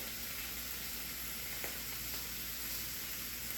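Tiger shrimp fry in avocado oil with a steady, even sizzle, faint and close, holding without a break and with no talk.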